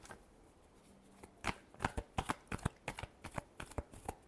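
Tarot cards being shuffled at close range, a quiet start followed by a quick run of crisp riffling snaps and taps that continue steadily to the end, with no voices.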